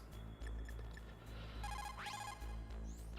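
Electronic ringing of a codec phone call to Nastasha in Metal Gear Solid: The Twin Snakes, repeated tonal beeps and chirps with rising sweeps over a low constant hum, fairly quiet, no speech.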